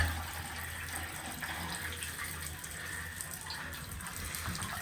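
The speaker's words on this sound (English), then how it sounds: "Turn the hot tap on, the shower on." Water runs steadily from a hot tap and a shower in a bathroom served by a Vaillant Ecotec Plus 630 boiler. The flow makes a constant, even rush of spray that stays at one level throughout.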